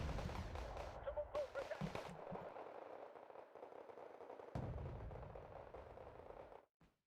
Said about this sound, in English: Look at this 50 cals go.